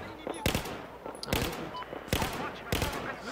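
Gunfire in the Battlefield 4 video game: four sharp, loud shots spaced roughly evenly over a few seconds, each cracking out over a steady background hum of game ambience.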